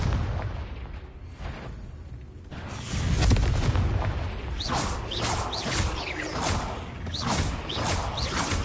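Confringo blasting-spell explosions in the video game Hogwarts Legacy: heavy booms roll out alongside repeated whooshing casts, loud and dense throughout.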